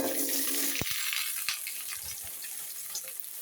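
Vegetables frying in hot oil in a heated wok for a curry: a steady broadband sizzle throughout with a few sharp clicks and spatters, fairly close and alone.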